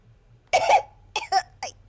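AI-generated coughing from Eleven Labs v3 text-to-speech: a few hoarse, voiced coughs, a doubled burst followed by two shorter ones, close and fairly loud against a quiet background.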